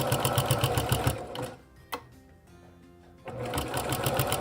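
A sewing machine stitches quilting fabric in fast, steady bursts, close and loud, stopping for about a second and a half in the middle before running again.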